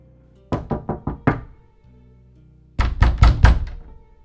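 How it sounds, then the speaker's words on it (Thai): Knocking on a wooden door in a ghost story: a quick run of five hollow knocks, a pause of over a second, then four louder, heavier thumping knocks, close and distinct with no voices. "แล้วจากนั้นก็มีเสียงเคาะประตูดังขึ้นมาจริง"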